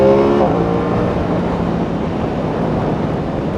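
A loud Aprilia RS660 sport motorcycle engine drones steadily close up as it accelerates, its pitch settling after a brief higher whine at the start, with no one talking.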